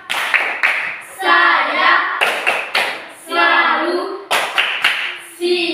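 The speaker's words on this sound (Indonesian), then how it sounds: "Tepuk siap." A group, likely students, claps a rhythmic tepuk siap chant at a school presentation in Merauke, with sharp bursts of clapping alternating with shouted chanted replies, close and loud.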